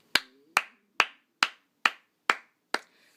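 Seven sharp single hand claps at an even, unhurried pace, each crisp and close with a short decay into silence, heard alone with no talking.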